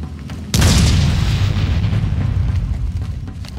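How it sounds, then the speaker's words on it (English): A grenade blowing up in Batman: Arkham City, a single loud, sudden blast with a sharp crack that settles into a long, heavy low rumble fading over several seconds. "Grenade!"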